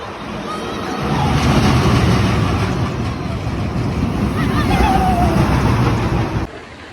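Rushing wind roars past on the Loch Ness Monster roller coaster at Busch Gardens, loud and steady for several seconds as the train speeds along, with a brief faint scream or voice in the middle before it drops away abruptly.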